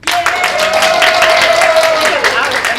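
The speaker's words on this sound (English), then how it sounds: "I know we've been coaching them to, clap and cheer louder." A live studio audience at the Tempe Public Library applauds in a steady wash of clapping for a few seconds, loud and continuous, with a voice briefly heard over it.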